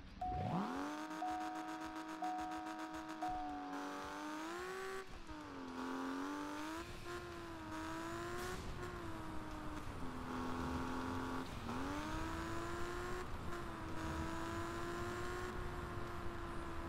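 A Priorelli car driving in the video game Alarm für Cobra 11, its engine droning steadily and rising and falling in pitch through gear changes and revs, loud and close with no talking.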